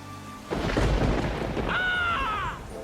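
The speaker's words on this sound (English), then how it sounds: "Afraid of a little thunder, huh?" A low rumble of thunder over a flooding river in an animated show rolls in and swells for a couple of seconds, fairly distant, with a brief high whine rising over it near the end.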